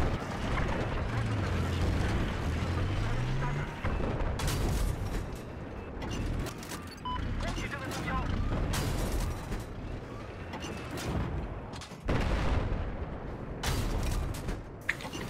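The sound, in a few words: tank fire and explosions, Battlefield Siege of Shanghai video game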